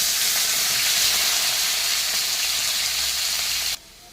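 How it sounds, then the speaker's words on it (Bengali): Potatoes fry lightly in a pan with a dense, loud, steady hiss of sizzling oil close by, continuous and without talking, cutting off abruptly just before the end. "ফুলকপির সঙ্গে দেবো বলে আমি আলুটাকে ভেজে নেবো তো হালকা করে।"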